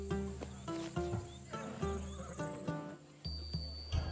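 Horse neighing in the video game Assassin's Creed Odyssey, a few faint whinnies and snorts with soft clip-clop steps and insect chirps in the background, quiet and without talk.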